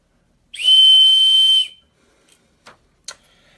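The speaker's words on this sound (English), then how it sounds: "Yeah, the Victorinox whistle knife. And it's actually a pretty good whistle considering the size of the knife that it is on." A single shrill, steady whistle blast from the small whistle built into a Victorinox pocket knife lasts about a second, loud and close, followed by a few faint clicks as the knife is handled.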